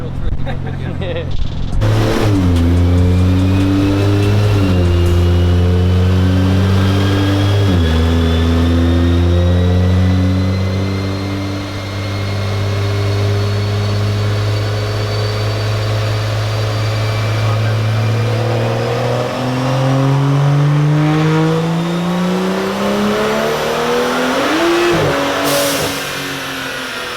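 A turbocharged BMW engine on a dyno, calibrated in fifth gear, roars loud and close at wide-open throttle. Its droning pitch dips briefly at two kickdowns, then climbs steadily to a peak near the end.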